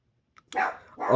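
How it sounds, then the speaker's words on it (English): A dog barks twice close by, each a short, loud burst after a brief quiet start, with no talking over it. "dog calm down"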